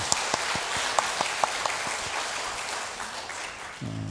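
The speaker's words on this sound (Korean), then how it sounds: "우리 하나님께 영광의 박수 올려드리겠습니다." A church congregation at a Sunday worship service applauds, a soft steady patter of many hands with a few sharper individual claps standing out early, tapering slightly toward the end.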